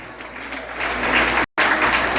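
Church congregation applauding during a family worship service, a dense steady wash of clapping from many hands with a brief cut to silence midway.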